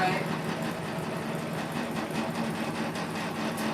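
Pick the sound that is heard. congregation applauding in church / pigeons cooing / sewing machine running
sewing machine running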